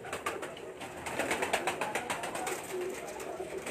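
Pigeons coo softly from a rooftop loft amid a faint wash of background noise, low murmuring calls overlapping at a distance without clear speech.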